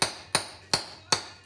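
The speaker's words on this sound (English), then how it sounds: "I'm just going to use this socket and hammer, push that in there" A hammer strikes a socket four times at an even pace, driving a seal into the housing of a raw water pump for a Yanmar 2GM sailboat engine; each tap is a sharp metallic knock that rings briefly, with nothing else audible.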